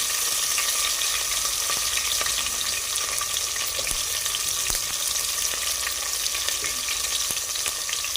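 Garlic frying in a pan for a fish curry, a continuous crackling sizzle with occasional sharper pops and the scrape of stirring, close and steady with no talking.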